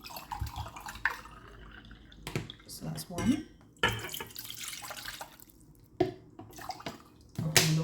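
Tap water runs into a pot for a cup of ashwagandha tea, splashing in short bursts with clinks of the pot between, while someone talks over it close by.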